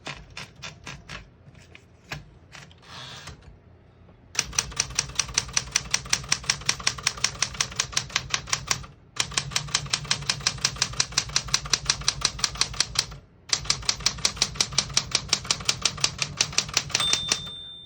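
Brisk, rapid clacking of keys on a 1974 Smith-Corona Galaxie Twelve manual portable typewriter in long bursts, broken by short pauses, with a few slower taps at the start.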